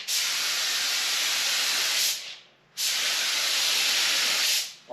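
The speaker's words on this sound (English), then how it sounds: "Got my clear mixed up, already sprayed the front nose cone part" A spray gun lays clear coat over an EZGO RXV golf cart painted molten red with gold pearl, hissing loudly and up close in two long, steady bursts with a short pause between them.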